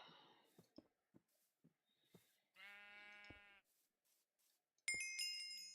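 A Minecraft sheep in the GregTech New Horizons modpack gives one clear, wavering bleat amid faint game clicks and footsteps, followed by a bright chiming game tone.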